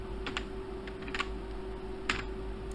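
Python code typed on a computer keyboard, with a few short clusters of light key clicks separated by pauses, faint and close against a steady low hum.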